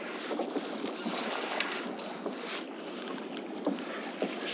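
Kayak riding a heavy sea swell and waves left by storms, with a continuous hiss of water and wind gusts around the hull, close and fairly soft, no talk.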